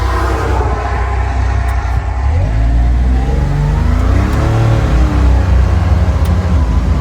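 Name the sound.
Can-Am Defender UTV driving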